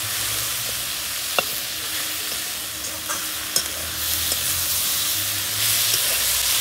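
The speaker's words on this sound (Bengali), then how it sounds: "এবার আমি একটু সোয়া সসটা দিয়ে দিচ্ছি। সোয়া সসটা এই তেলের মধ্যে দিলে না কালারটা খুব সুন্দর আসবে।" Soy sauce hitting hot oil in a pan with onion and capsicum, a loud continuous sizzle close up with a few sharp clicks of a utensil against the pan.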